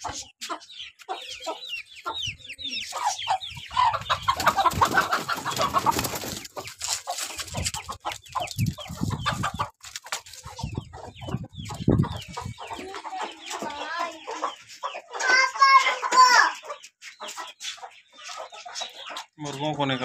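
Chickens cluck and cackle close by in a busy, irregular run of calls, with a person speaking intermittently among them.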